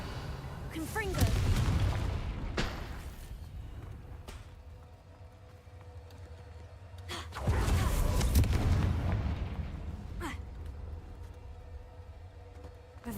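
Two loud blasts from the Confringo spell in Hogwarts Legacy, each a sharp burst with a rumbling tail, spaced several seconds apart over quieter background game sound.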